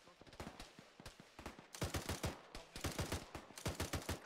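Automatic gunfire from the Arma military shooter during a ShackTac squad fight against enemies, fired in repeated rapid bursts that grow louder and denser partway through, with short gaps between volleys.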